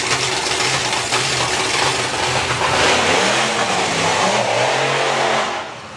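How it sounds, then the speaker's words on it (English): Side-by-side drag racing slingshots at a summer nationals event, an injected Ford and a supercharged nitro Chevy, revving loudly with rising and falling engine tones throughout. "Side-by-side slingshots, 1 injected Ford, 1 supercharged nitro Chevy."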